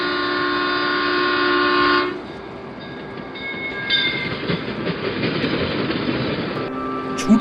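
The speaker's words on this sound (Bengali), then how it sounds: "ট্রেন ছুটছে।" A train's long horn blast cuts off and gives way to the rumbling clickety-clack of a speeding train crossing a big bridge at night, a continuous sound effect in a Bengali ghost story with no talk over it.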